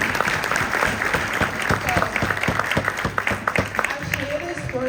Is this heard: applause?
yes